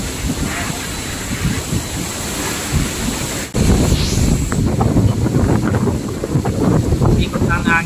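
Strong habagat monsoon wind during Super Typhoon Rolly buffets the microphone in heavy, gusting roars with a rushing surf-like wash, growing louder partway through, and voices are heard beneath it.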